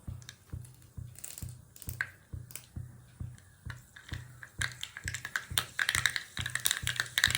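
Mustard seeds and urad dal temper in hot oil for a hotel-style coconut chutney, with close, rhythmic taps at first, then dense bright crackling and popping that builds and grows louder toward the end.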